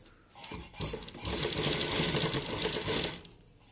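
Sewing machine starting to stitch a round collar neckline: a few clicks, then a dense, rattling burst of stitching lasting about two seconds, close and moderately loud, before tapering off.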